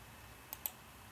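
A computer mouse clicks twice in quick succession, two short crisp taps close to the microphone over a quiet room hum, with no talking.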